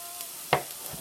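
Peppers frying in a pan, a soft steady sizzle with one brief stirring scrape, faint and close, with no talking.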